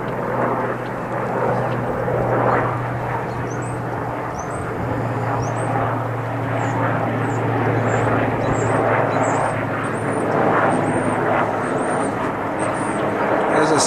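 A Marine-type presidential helicopter passing overhead near Washington, D.C., its engine and rotor drone steady and fairly loud across the whole span, rising slightly at the ends, over an outdoor farm setting.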